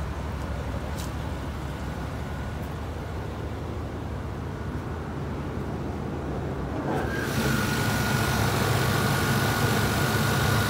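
A fuel-injected throttle-body 305 V8 in a 1992 Cadillac Brougham idles steadily and close by, a low even rumble that thickens and grows louder partway through.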